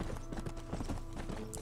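Horse hooves clip-clop steadily in the Red Dead Undead Nightmare video game, a fast galloping rhythm of close, loud hoofbeats running through the whole short stretch.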